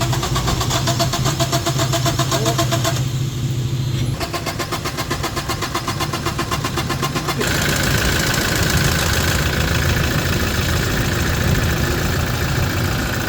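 Toyota Innova engine being started after EGR valve and intake manifold work: a loud, close cranking whir catches and settles into a steady idle, with a rising whine joining partway through.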